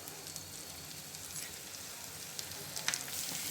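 Chopped chilli, capsicum and curry leaves fry in a pan with a soft, steady sizzle and crackle, faint and close, with a few sharper pops near the end.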